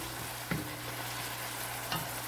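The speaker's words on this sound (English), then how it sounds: "So after sauteing our spices here," Spices sauté in a pan for chicken pancit with a quiet, steady sizzle, broken by two brief stirring scrapes about a second and a half apart.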